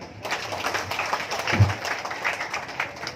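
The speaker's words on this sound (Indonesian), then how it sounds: "Tepuk tangan." Audience applause at a food security gathering hosted by Pemalang police in 2024, a steady, moderately loud patter of many hands clapping for a few seconds without distinct voices.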